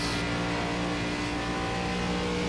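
An ARCA stock car in the iRacing game at full throttle, its engine roaring loud and steady without a break, a dense, continuous drone with no talking.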